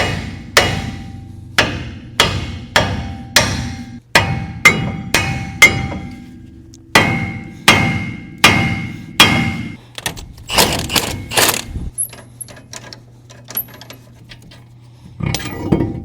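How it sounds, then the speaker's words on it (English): A hammer strikes the ball joints on a Dana 60 front axle in a workshop, about a dozen sharp, loud metallic clangs at a steady rhythm. A quieter stretch with a low hum follows, then one final blow. "We'll go up here and hit the ball joint there and that ball joint."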